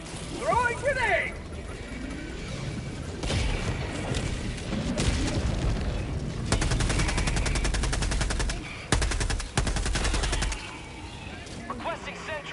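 Continuous machine-gun bursts and heavy booms fill a battle in the video game Helldivers 2, with a grenade blast among the dense, loud rattling fire; a voice speaks over parts of it.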